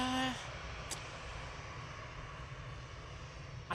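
A steady, faint engine drone rolls on at an airport, from an Etihad ATR 72 turboprop, distant and constant with no voices.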